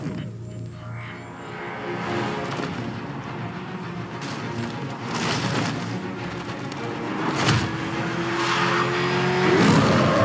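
A military vehicle in the video game Batman Arkham Knight drives with a steady, loud engine roar, tire squeals and skids rising toward the end, with no talk over it.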